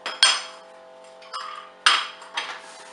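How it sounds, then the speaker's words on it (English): Salt and nitrate curing salt are stirred into water in a bucket to make brine for curing ham, giving four close, sharp clanks and scrapes in an uneven rhythm with short pauses between them. "I'm gonna mix it, and I'm gonna make a salt solution"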